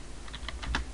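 Computer keyboard typing, a handful of quick soft key clicks in close succession against a low background hum, close and quiet with no talking.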